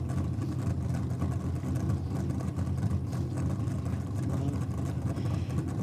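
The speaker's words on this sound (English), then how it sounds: "Yeah, great sound in that car" Nathan Watts' Super Sedan drag racing car from the Grants Performance team at East Coast Thunder, a loud, steady engine roar with dense low rumble holding for the whole stretch, no talk over it.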